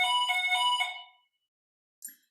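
Electronic bell chime sounding a few rapid repeated pulses that fade out, followed by silence and one short faint tone; the setting is an indoor conference hall.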